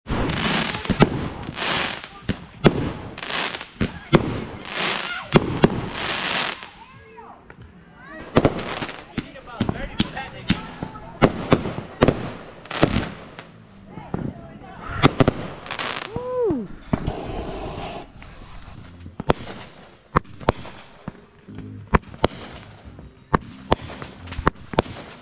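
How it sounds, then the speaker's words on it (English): Fourth of July fireworks and firecrackers set off nearby, a rapid series of sharp loud pops and crackles with occasional whistles, and people talking between the blasts. "Just about to pop the last of Ava's fireworks"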